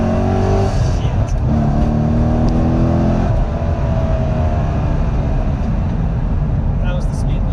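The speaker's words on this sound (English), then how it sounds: "the LS7 in this thing is an absolute monster" A Corvette C6 Z06's LS7 V8 engine revs hard under acceleration, a loud close roar with rising then falling harmonic tones that stays dense and steady throughout.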